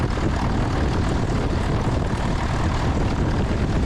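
A Piper Archer propeller airplane's engine roars steadily at full power on the takeoff roll, a loud, continuous drone heard close up from inside the cabin with no talking.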